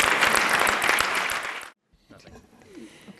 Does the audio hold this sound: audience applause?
yes